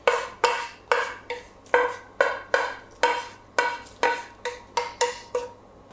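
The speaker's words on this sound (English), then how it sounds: "And finally, put here our fried vegetables." Fried vegetables go into a big pot of mushroom soup with about a dozen sharp metallic clinks and scrapes of a utensil against the pot, coming at a steady rhythm, fairly loud and close, with no talk.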